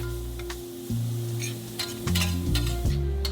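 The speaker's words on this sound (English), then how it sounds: "Keep stir-frying until some of the moisture has cooked off." Red and green peppers crackle and sizzle in a wok as a spatula stirs and scrapes, a steady frying hiss broken by a few metal clinks.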